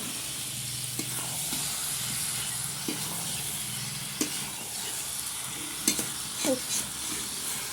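Ginger paste stir-fried in a pan, a soft steady sizzle and hiss with occasional scrapes and taps of a spoon, close and moderate in level, no voices.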